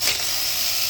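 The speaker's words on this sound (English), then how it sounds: "I'm gonna remove the timing cover bolts" A ratchet wrench loosens the timing cover bolts on a Nissan engine during a timing chain replacement, giving a brief, loud, continuous run of rapid clicks close up.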